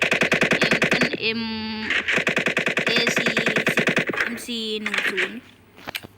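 A newly added gun in a mobile shooter game fires in loud rapid automatic bursts, two long strings of shots broken by short pauses and metallic reload clinks, with someone talking over the gunfire.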